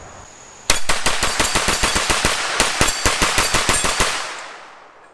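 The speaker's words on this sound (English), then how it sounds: "I'm going to go ahead and switch to semi-auto first. We'll shoot 20 rounds" An AR-9 rifle fired rapidly in semi-auto, a quick run of about twenty loud, sharp cracks close by in an even, fast rhythm, ending with a fading echo.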